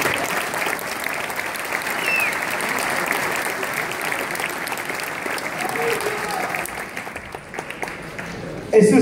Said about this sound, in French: Je voudrais qu'on les applaudisse très fort